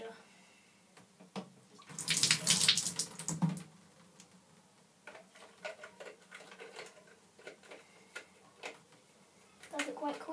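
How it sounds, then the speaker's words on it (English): Water poured into a Nerf Micro Burst blaster, a brief splashing pour in the middle, surrounded by small plastic clicks and handling taps. "Then you just pour your water in it and it's a speed loader."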